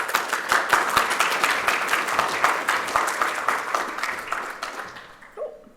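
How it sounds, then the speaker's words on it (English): Audience applause for a speaker at the Everything Open 2025 conference, a steady wash of many hands clapping that tapers off near the end, with a brief voice at the close. "If we could have a round of applause for Katie."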